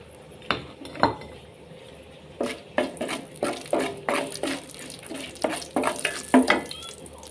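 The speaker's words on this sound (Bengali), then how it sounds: "তেলটা হালকা গরম হয়ে আসলে আমি এর মধ্যে দিয়ে দিচ্ছি তেজপাতা, আর দিয়ে দিচ্ছি শুকনো মরিচ" Bay leaves and dried red chilies drop into lightly heated oil, setting off a soft sizzle broken by a run of sharp metallic clinks and scrapes from a utensil stirring in the pan, with no voices.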